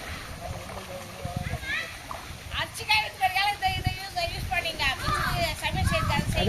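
Water splashes and pours in uneven bursts, close by, washing rabbit meat in a village kitchen, while people talk and a voice chatters over it.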